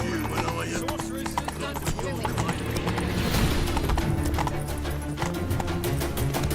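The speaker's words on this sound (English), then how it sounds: "Run, Roach" The horse Roach gallops in The Witcher 3 video game with loud, rapid clip-clop hoofbeats. A whinny can be heard, and game voices and ambient sound run underneath the steady drumming.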